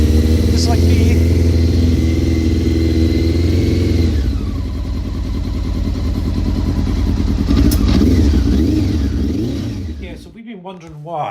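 A rally car engine idles while warming up at a rally scrutineering event, a loud steady rumble close by that briefly rises in pitch.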